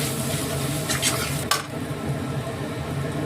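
Potatoes mashed with kasuri methi, chilli powder and turmeric for aloo paratha are stirred and mixed by hand in a bowl. A steady soft scraping and rustling runs throughout, broken by a brief utensil clink near the middle.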